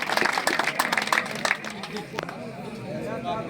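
An audience at a nautanki inauguration in India breaks into a burst of clapping, loud and crowded at first, then thinning out as a voice carries on over the fading applause.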